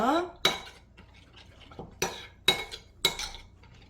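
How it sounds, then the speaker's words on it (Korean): Cabbage and apple salad is tossed with salt and perilla seed powder in a bowl, giving several sharp utensil clinks against the dish between quieter rustling mixing sounds. "이렇게 섞어주시고 이제 이렇게 섞으면 되니까 골고루 잘 섞어주세요"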